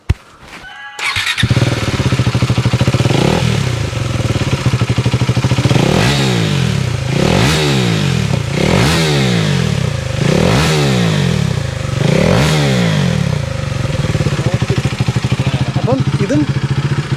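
A KTM Duke 390 with an aftermarket exhaust cranks to life and settles into a loud, close idle, then revs sharply about five times in a steady rhythm, each blip climbing and falling back to idle.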